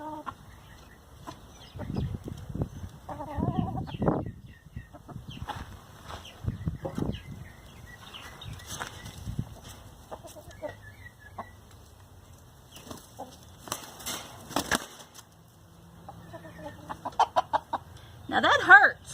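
Rooster on a small farm clucking and flapping its wings while flogging a person, scattered clucks and bursts of wing beats with a sharp flurry near the end, a voice talking in between.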